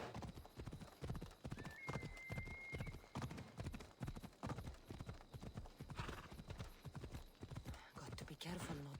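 Horse galloping in the video game Assassin's Creed Odyssey, a fast steady clip-clop of hooves throughout with a brief whinny, under someone talking.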